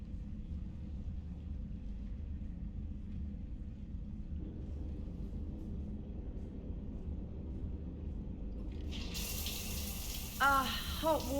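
Steady running shower water in a Mass Effect 3 scene, a low continuous rush with a brief brighter splash near the end, no speech.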